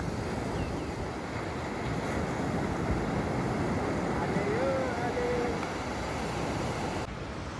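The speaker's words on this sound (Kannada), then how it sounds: "ಸಮುದ್ರದ ಅಲೆಗಳ ನರ್ತನ." Sea waves break on the shore near Mangalore at daybreak, a continuous dense roar of surf mixed with wind buffeting the microphone.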